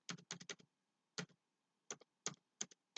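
Bursts of computer keyboard typing as credit card details are entered, quick clustered keystrokes separated by short pauses, close and crisp with no talking.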